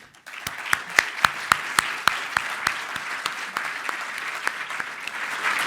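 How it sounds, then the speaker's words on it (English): Applause at an academic workshop in Nicosia, Cyprus, opening with a few sharp, distinct claps that quickly build into a dense, sustained round of clapping from the audience, fairly close and even in volume. "I think that and their hard work in the past years deserves a big round of applause from us all."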